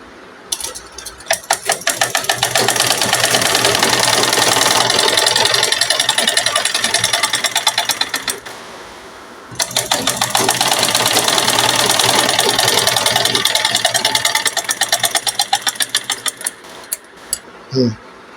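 Sewing machine running in two long stitching bursts along a folded 1.5-inch fabric border, a rapid steady mechanical chatter, close and loud, with a pause between runs and a few short taps at the end.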